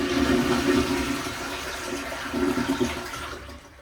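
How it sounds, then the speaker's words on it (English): A toilet flushes nearby with the water supply shut off, a loud rushing swirl of water that surges twice before draining away and fading. "flush the toilet"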